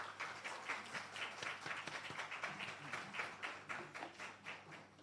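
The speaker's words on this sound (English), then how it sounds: "Please give her a nice round of applause as she comes." Audience applause at a Jamaica Archives and Records Department launch ceremony, welcoming the government archivist; a steady, moderately distant wash of many hands clapping continuously throughout.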